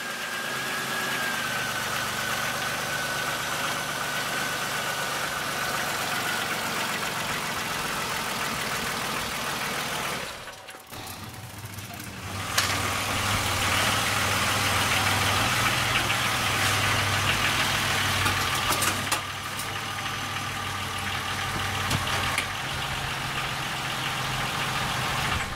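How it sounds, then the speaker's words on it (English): A 2003 Chevy Impala engine idles steadily right after an oil change, a continuous mid-pitched hum with slight knocking texture, close and loud, dipping briefly partway through before resuming. "Before taking the vehicle down, I like to run the engine to verify there is no leaking."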